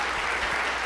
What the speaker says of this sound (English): let us give our wonderful actors a huge round of applause